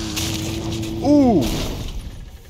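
A car crash in the Jurassic Park video game: a sharp impact with a brief burst of shattering glass, followed by a loud crunching thud and a sweeping tonal whine, over constant game background noise.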